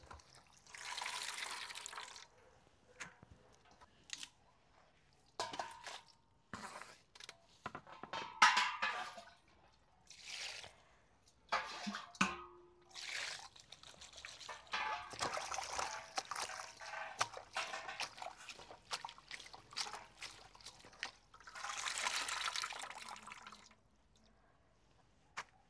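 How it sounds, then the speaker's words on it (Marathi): Moringa leaves being rinsed and rubbed in water, giving intermittent splashes and trickles in bursts with quiet pauses, close by. "2 ते 3 पाण्याने धुवून घेणार आहोत।"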